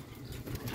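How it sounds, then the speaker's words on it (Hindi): Sialkoti pigeons handled up close, giving a short burst of wing flapping with low cooing over a busy background. "सियालकोटी कबूतर"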